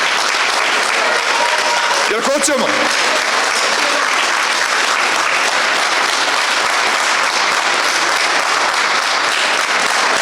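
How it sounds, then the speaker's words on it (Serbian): Loud, sustained crowd applause fills a political party rally in Lazac, steady and dense throughout, with a man's brief spoken question rising over it near the start. "mislim da će ovaj aplauz i u Beogradu da čuju koliko je jak"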